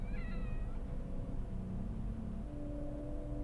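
A cat gives a short, close meow near the start over a low, steady rumble, which continues alone afterward.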